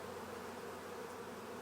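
Honey bees hum in an open hive during an inspection, a dense, continuous low drone that stays steady and fairly quiet throughout, with no voices over it.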